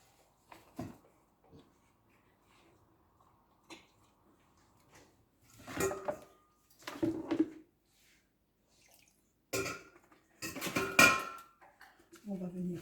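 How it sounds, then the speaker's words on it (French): A cooking pot and steamer basket are handled with Morteau sausages going in, giving scattered metallic clinks, clatters and soft wet thuds in short bursts between quiet pauses, close by. "On va mettre par-dessus le panier et on va mettre les saucisses de morteau."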